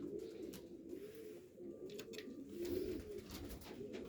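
Low, throaty cooing from pigeons, steady and overlapping, with faint flutters and soft background noise.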